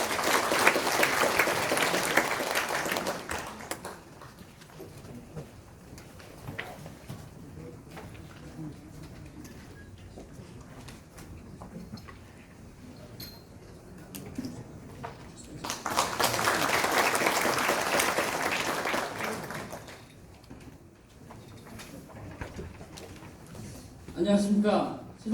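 An audience at a debate on revising the local autonomy law in Sejong applauds the city council chairman. A burst of clapping opens the stretch and a second swell arrives later, with quieter room noise between the two.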